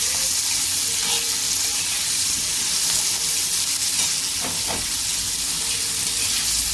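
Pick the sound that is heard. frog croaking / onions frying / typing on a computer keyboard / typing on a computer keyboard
onions frying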